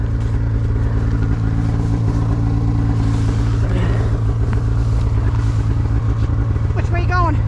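A snowmobile stuck in a deep snow drift during a blizzard revs loudly and continuously, its engine droning close by with clattering and strain, with no clear talk.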